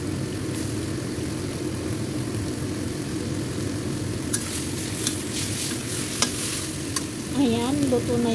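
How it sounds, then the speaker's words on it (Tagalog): Tomatoes simmer with added water in a pan, a steady bubbling sizzle with occasional scraping stirs and clicks of a utensil, close and moderately loud, with a brief voice-like tone near the end. "lagyan din natin siya ng tubig para naman maluto ng ayos yung kamatis"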